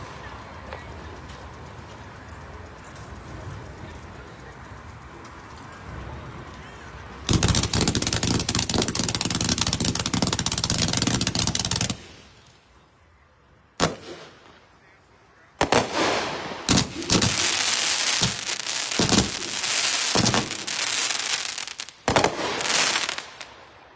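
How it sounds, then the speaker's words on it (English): A 183-shot sprinkler cake firework going off at a demo shoot, with long stretches of rapid, dense crackling bursts, brief gaps, and sharp loud reports, fairly close and loud throughout. "another sprinkler cake, 183 shots. Willie's Choice."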